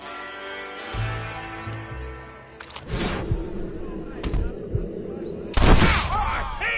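A gunfight in the video game Red Dead Redemption, with several sharp loud gunshots in bursts and a final heavy blast, mixed with game music and character voices.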